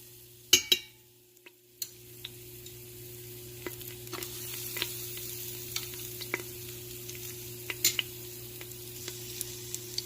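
Garlic drops into two tablespoons of hot oil and settles into a steady, gentle sizzle, with a few sharp clinks of the utensil at the start and occasional light ticks as it sautés.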